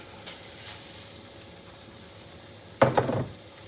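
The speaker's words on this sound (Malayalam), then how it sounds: "ഇനി നമുക്കിതിലേക്ക് നമ്മൾ വേവിച്ച് വെച്ച ചോറ് ഇട്ട് കൊടുക്കാം" Cooked rice is dropped into a pan of chicken and stirred: a short burst of scraping, sizzling and clattering near the end, after a quiet stretch of faint kitchen background.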